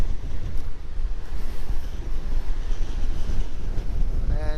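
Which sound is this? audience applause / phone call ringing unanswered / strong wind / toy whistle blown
strong wind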